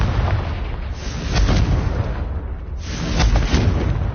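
The Confringo fire spell explodes in the Hogwarts Legacy video game, booming blasts with rumbling bursts, loud, recurring in two swells over a few seconds.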